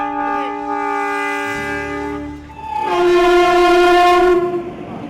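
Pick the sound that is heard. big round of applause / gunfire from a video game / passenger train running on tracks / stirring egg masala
passenger train running on tracks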